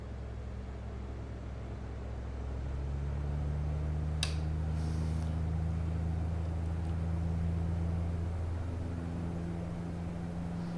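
Turboprop engines of a Saab SF340 cargo aircraft in the X-Plane 11 flight simulator spool up, a steady low drone that swells after a couple of seconds and holds at a higher, louder level, with a brief click partway through.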